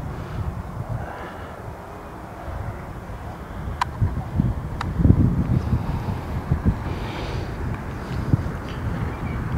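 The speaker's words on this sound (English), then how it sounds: "Yeah, it's pretty strong wind." Strong outdoor wind buffets the microphone as a loud, continuous rumbling roar, gusting steadily through the whole stretch with no talk.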